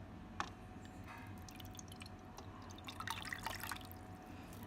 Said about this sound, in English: you need 1 cup of warm water and you need to pour it into a clean bowl